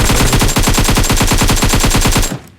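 An M4 rifle in a squad-rush shooter video game fires a rapid, evenly spaced automatic burst, loud and close, lasting about two seconds before cutting off abruptly.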